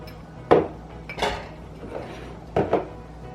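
Butter and chocolate dropped into a large saucepan, giving a few distinct clunks and knocks of metal and utensil, spaced out over a few seconds against a quiet kitchen background.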